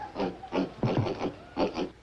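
Farm pigs oink in several short grunting bursts spaced across two seconds, close and fairly loud with no talk over them.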